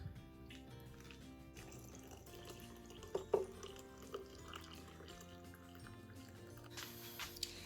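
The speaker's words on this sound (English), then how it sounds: "So we're going to pour the milk right on top." Hot milk poured into a mug over a hot cocoa bomb, a quiet liquid trickle and gentle splashing with a few faint clinks, soft and close with low background hum.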